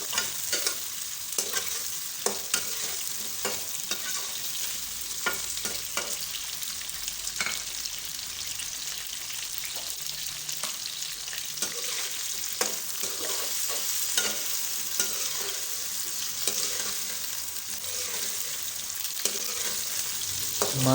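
Cauliflower and potato pieces frying in a pan, a steady loud sizzle running throughout with repeated scraping stirs of a spoon, no voices.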